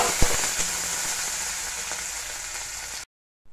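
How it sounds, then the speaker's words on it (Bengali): Chopped onion, green chili and garlic frying together in a pan, giving a dense, even sizzle with a few knocks of stirring, close by, before cutting abruptly to silence. "প্রথমেই দিয়ে দিচ্ছে পেঁয়াজ, কাঁচামরিচ আর রসুন কুচি, সবগুলো একসাথে দিয়ে একটু নাড়িয়ে নিচ্ছে"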